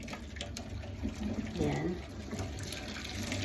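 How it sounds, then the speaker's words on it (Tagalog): Water poured into a kettle to rinse it out after cleaning, a soft steady splash and trickle under a brief spoken word and background hum. "Tagalin natin siya ng tubig."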